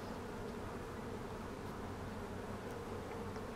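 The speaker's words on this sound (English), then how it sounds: "There's a bee." Honey bees buzz around an opened hive during a queen cage removal, a constant, fairly faint droning hum with no talking.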